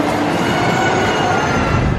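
Ghost train ride on the Grand Pier at Weston-super-Mare, a loud, close rumble of rail cars running along track with a squealing metallic edge, steady throughout with no voices.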